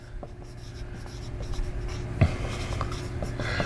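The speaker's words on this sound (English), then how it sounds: "So we're going to write apparent" Marker or chalk writing on a board during an astronomy lesson: steady scratchy strokes up close, with one sharper tap partway through and no talk.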